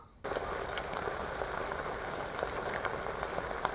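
Elephant foot yam simmering in a pot of water over a medium flame, a steady dense bubbling and gurgling hiss that runs unbroken at close range with no talk.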